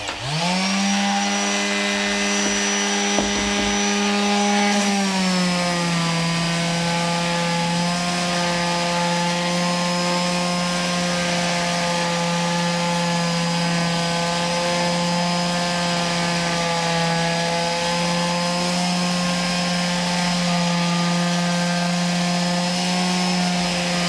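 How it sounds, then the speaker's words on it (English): A power sander grinds across fibreglass on the hull of a 27-foot Nauticus cruiser, with a loud, steady motor whine that dips slightly in pitch early on and then holds unbroken for over twenty seconds. "I've sanded down most of the fiberglass"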